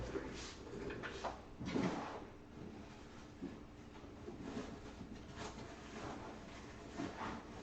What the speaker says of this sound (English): drawers don't want to move.